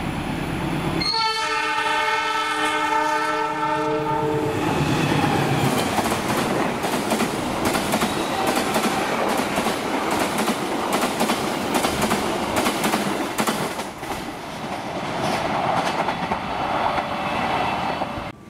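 An Argo Parahyangan passenger train passes close by, opening with a loud multi-tone horn blast, then a sustained rumble and rhythmic clatter of wheels over rail joints as the carriages roll past, fading slightly near the end.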